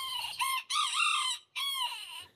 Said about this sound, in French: C'est les poules et coqs les plus petites du monde.